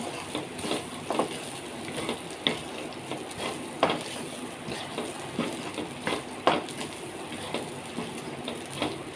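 Peanuts frying in a pan of jowar millet upma, stirred with irregular scraping clicks and soft sizzling close by, steady and fairly quiet with no talking.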